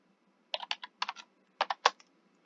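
Quick clustered keystrokes on a computer keyboard while typing Arduino code, two short bursts of clicks separated by a brief pause, close and clear with no talking.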